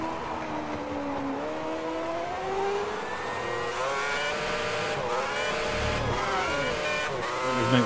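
A Virgin Racing Formula One car in the F1 2010 video game at Montreal, Canada, its engine screaming continuously at high revs, with rising and falling pitch through gear changes and corners, alone with no voices.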